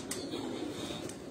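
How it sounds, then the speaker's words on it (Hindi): A home-bred pigeon of the chapdi breed coos softly and steadily, faint and close, with no one talking. "ये चपड़ी नस्ल का ये कबूतर है"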